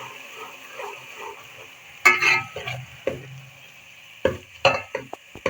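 Garlic ginger paste is stirred into golden fried onions in a pan, giving soft sizzling under a series of sharp spoon scrapes and clanks against the metal, irregular and close.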